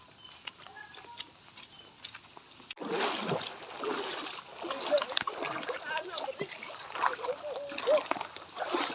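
People bathe in a river swollen by a recent flood, with close, irregular splashes and sloshing water. Voices talk and shout in the background.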